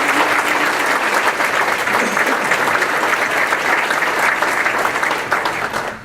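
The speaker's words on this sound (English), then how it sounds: "let's give all the people that put the ceremony together a big round of applause" Loud, sustained applause from the crowd at a military change-of-command ceremony for the USACE Southwestern Division, a dense steady wash of clapping that holds for several seconds and fades slightly at the end.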